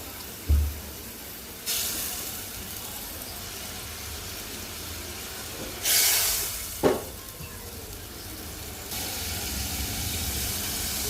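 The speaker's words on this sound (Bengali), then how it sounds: "এখন মাছগুলো মশলার মধ্যে দিয়ে কষাবো মাছগুলোও কষাবো মশলাও কষাবো একসাথে" Fish sautéed in spice paste with green chillies, frying in a pan with a steady soft sizzle and a few louder bursts of hiss and stirring clatter, without voices.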